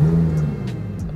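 A Ferrari Speciale pulls out under power, its engine a loud, close, steady rumble with a brief tonal whine near the start and faint higher whooshes above.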